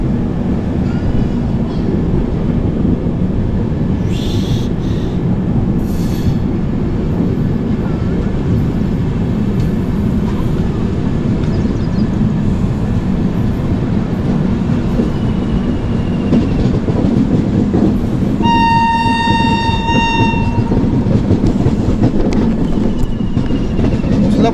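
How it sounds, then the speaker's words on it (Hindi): A train heading toward Usalapur rolls and curves along the track with loud, continuous rumbling and clatter from close by, and a clear multi-tone horn sounds for a couple of seconds near the end. "ट्रेन मुड़ रहा है उसलापुर के लिए अपना"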